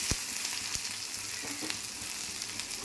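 Pieces fry lightly in oil for a morola fish chorchori, giving a soft, steady sizzle with a few faint stirring taps and no voices.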